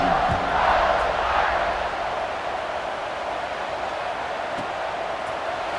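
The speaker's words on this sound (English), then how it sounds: "this crowd is buzzing after that last score" Football stadium crowd at a Notre Dame versus Purdue game buzzing after a score, a broad steady roar of many voices that swells early and then holds at a slightly lower, even level.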